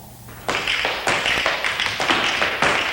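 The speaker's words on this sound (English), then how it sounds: "The sound is tap dancing." Rapid, sharp taps from tap shoes on a hard floor. Three dancers (six tapping feet) make busy overlapping patterns that sound bright and close.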